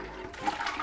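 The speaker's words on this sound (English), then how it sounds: "So I'm gonna use the cold water to rinse out the pan." Cold water swirled around inside a pan to rinse it out during mango wine making, a close, steady sloshing and gurgling of liquid lasting under a second, with no talk.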